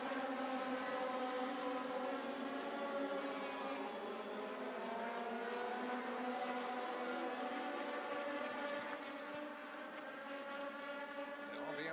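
Race cars on the track at Cordele Motor Speedway in a combined feature race, engines droning and shifting pitch as they pass, with a continuous mid-distance roar under the racing action.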